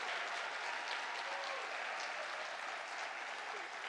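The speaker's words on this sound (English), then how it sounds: "Another big round of applause for Charging Bear." A conference audience at an Indigenous international education gathering gives a sustained round of applause, dense steady clapping heard from within the room, with no talk over it.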